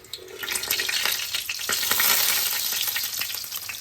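Rib chops with sugar sizzle steadily in a hot pan, a loud, close, continuous frying crackle that swells slightly midway, with no talking.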